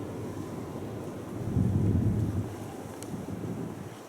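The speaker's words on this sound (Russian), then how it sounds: "Сегодня очень ветрено." Strong wind gusts through a country garden, a steady close roar buffeting the microphone that swells louder midway and then eases back.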